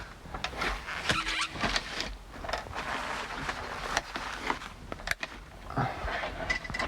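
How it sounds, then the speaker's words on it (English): The sky top roof of a 1962 Studebaker Lark slides open and folds back, a close, fairly quiet mechanical rustle and rattle with a few small knocks as the fabric gathers. "you can just open the roof and it folds back"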